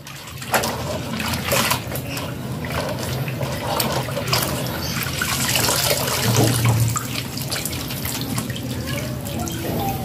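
Water splashing and pouring while birds are bathed in a malathion solution, a continuous near wash of sloshing and dripping with irregular splashes.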